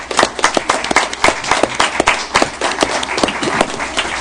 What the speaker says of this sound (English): let's let everybody give you guys a round of applause